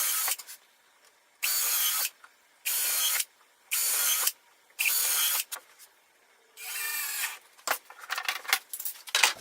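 Screws driven into a plywood bottom board with a power driver: five short, loud whirring bursts of about half a second each, evenly spaced, then a longer burst followed by scattered clicks and handling knocks, close and alone.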